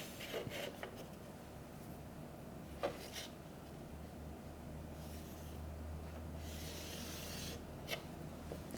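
Pen scratching lines across paper while drawing a geometry angle, a quiet rasp in short strokes with small taps, alone with no talk.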